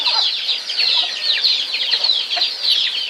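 A pet chicken named Endot clucks close by, a busy run of soft, rapid clucks and small chirps repeating continuously, fairly loud with no voices over it.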